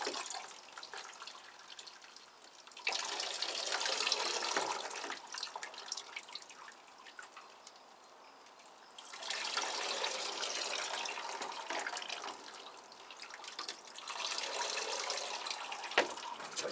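Water poured into a bucket during orchid repotting, with three long splashing pours separated by short pauses, fairly close and quiet, with no talk.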